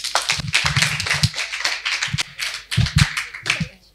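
A small group claps in bursts after a correct answer in a general knowledge quiz at a personality development session, uneven rhythmic claps that start and stop with brief gaps.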